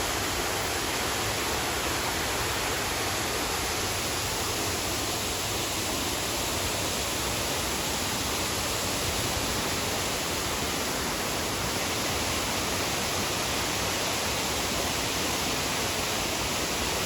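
Steady, dense rushing water of a fountain in Vigeland Park, Oslo, splashing continuously, a constant hiss with no breaks and no voices.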